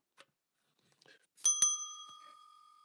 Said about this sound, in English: Ring the bell twice.